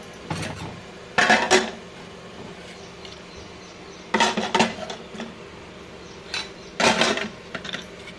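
Metal kitchenware clinks in short bursts as a plate goes over a pot of vegetable pulao, a few sharp clatters separated by quiet gaps, close and alone without talk.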